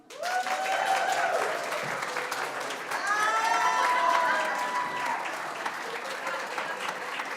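A Unitarian Universalist congregation applauds at a Sunday service game show segment, a broad wash of clapping rising quickly and holding steady, with some voices and whoops mixed in.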